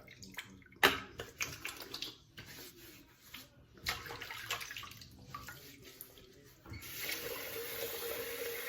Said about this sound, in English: Let me splash some water on my face